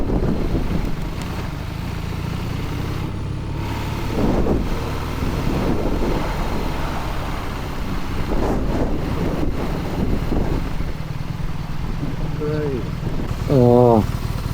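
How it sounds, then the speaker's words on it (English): Wind roars and buffets the microphone throughout a ride on a BMW R nineT Urban G/S motorcycle, with engine rumble underneath and a voice speaking briefly near the end. "That is windy."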